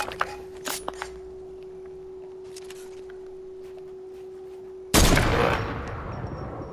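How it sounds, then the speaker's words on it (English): Gunshots ring out from behind in the video game Fortnite: a few faint sharp cracks early on, then a loud broadband blast at about five seconds that decays slowly, over a steady low electronic hum. "Where are the shots coming from behind?"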